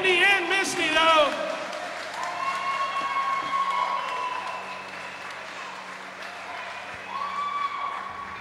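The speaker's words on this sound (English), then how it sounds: "Let's give a big round of applause to both Candi and Misty, though." A wrestling arena crowd applauds after a women's match ends in a no contest, with scattered cheers and whoops in a moderate, sustained wash of clapping, fading and then swelling again.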